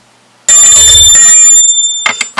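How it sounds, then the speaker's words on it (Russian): A bright notification bell chimes loudly and alone, its ringing tone sustaining for over a second before a quick second chime near the end. "Нажимаем на колокольчик,"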